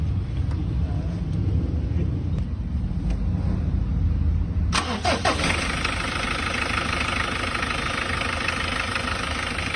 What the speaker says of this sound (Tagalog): Ayan, tunog makina yan.